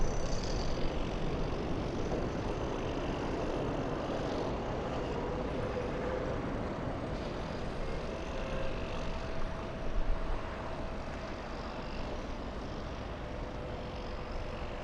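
Delta airliner taxiing at an airport, a distant steady jet engine whine and roar that holds even, with a faint hum on top and no one talking.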